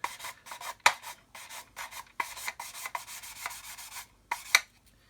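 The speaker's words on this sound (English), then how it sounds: "Got my OG material here so I can clean the sanding stick off, and then we can carry on with our sanding." A sanding stick rubs across a plastic model kit part in quick, repeated close strokes, an irregular rhythm of short rasps with brief pauses.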